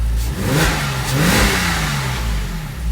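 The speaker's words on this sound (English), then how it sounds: "The engine sounds much healthier with that new oil spring too" A Porsche Boxster S, a 2000 model car running a 2001 engine with a new oil control piston and spring, revs loudly up and back down at close range.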